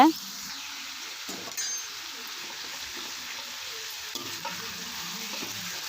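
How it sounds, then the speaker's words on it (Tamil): Chicken pieces for a spicy chicken gravy stirred while frying in a pan, giving a soft steady sizzle with occasional scraping and light clinks, fairly quiet and close. "நல்லா மிக்ஸ் பண்ணி விடுங்க நல்லா ஃப்ரை ஆகணுங்க குக் ஆகணுங்க"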